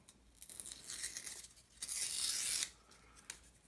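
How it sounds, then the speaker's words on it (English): Paper being peeled off a foam board wing rib for an RC plane, a close dry tearing rasp that swells for about a second and fades, with brief crackles before and after, no talk. "We'll take off the paper both sides."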